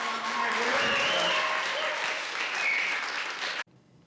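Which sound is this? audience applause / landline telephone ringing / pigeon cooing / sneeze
audience applause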